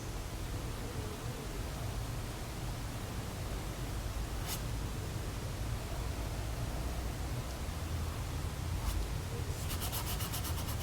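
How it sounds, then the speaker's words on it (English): Steady dry rubbing of an eraser cleaning up the edges of a value scale drawing, a continuous soft scrubbing texture held close and even throughout, with a brief tick near the end. "I'm going to take my eraser"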